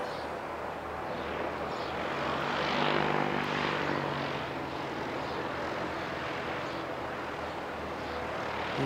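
Emirates A380 airliner flying a go-around, watched from an aero club: a broad, continuous jet roar heard from a distance, swelling slightly mid-way and holding steady.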